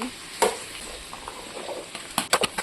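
Drumstick, carrot, bottle gourd and tomato pieces with sambar onions fry in a pan for sambar, giving a soft steady sizzle broken by a few sharp clinks of stirring, close and with no speech.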